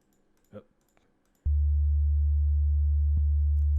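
Default Sytrus synth patch in FL Studio sounding a steady, loud sustained low sine-like tone that starts abruptly and holds without change, after a few faint clicks and a brief soft voice.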